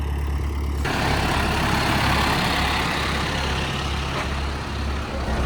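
A tractor sprayer's engine runs steadily at close range while its boom folds, a heavy low idling rumble with a hissing whine that shifts partway through.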